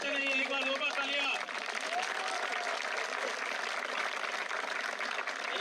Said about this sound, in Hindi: एक बार दो बार तालियां